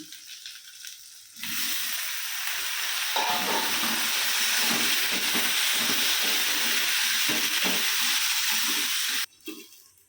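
Onion paste for a tomato curry drops into hot oil and sizzles loudly and steadily for several seconds, with stirring scrapes mixed in, before the sound cuts back to quiet.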